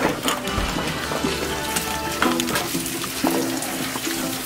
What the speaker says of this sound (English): Got mom watering the flowers.